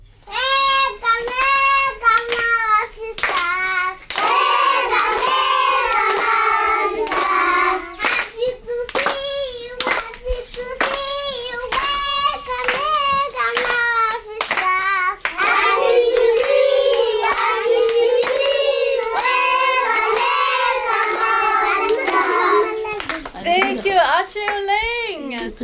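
A group of young children in a canvas tent school sing a welcome song led by a girl, clapping in a steady, sharp rhythm, their voices loud and close throughout.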